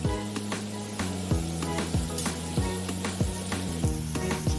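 Onions with salt sauté in a pan to golden brown, giving a steady, close, crackling sizzle that runs throughout alongside rhythmic background music.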